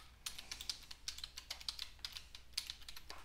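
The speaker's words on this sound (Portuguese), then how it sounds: "Digitando aqui a senha, clicando em enviar para a gente se conectar" A password is typed on a computer keyboard in a steady run of light, quick key clicks, close and fairly quiet, with no voices.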